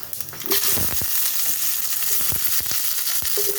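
Potatoes hit hot oil already seasoned with a bay leaf, a whole chilli and panch phoron, sending up a loud burst of sizzling that settles into steady close frying with a few scrapes and clinks, no talk.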